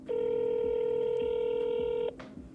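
A phone dials out to an office line: a single loud, steady DTMF tone holds for about two seconds and then cuts off abruptly, with faint background sound left behind.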